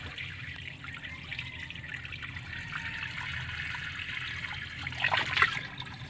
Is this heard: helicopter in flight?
no